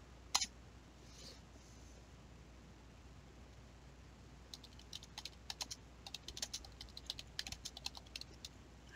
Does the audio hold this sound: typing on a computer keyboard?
yes